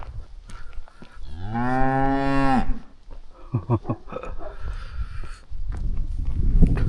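A cow gives one long, loud, close moo in a remote village on the Romania–Ukraine border, followed by shuffling hooves and rustling farmyard noises.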